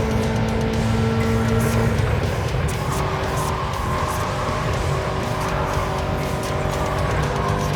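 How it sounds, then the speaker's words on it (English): A car drifting in a racing video game, its engine droning steadily under long, continuous tire squeal that rises and falls through the corners. "So drifting, in case you're wondering, drifting is not fast."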